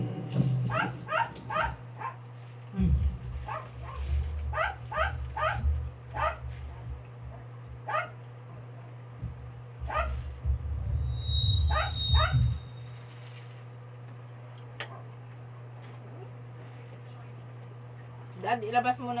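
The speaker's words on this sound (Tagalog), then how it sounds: "Grabe ang ingay ng aso namin." A dog barks and yips in short repeated bursts, fairly close, with whimpering squeals between them and a steady hum underneath.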